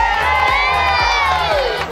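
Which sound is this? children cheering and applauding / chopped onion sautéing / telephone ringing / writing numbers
children cheering and applauding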